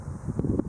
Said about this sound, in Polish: znowu się wiatr skądś pojawił i robi się bardzo zimno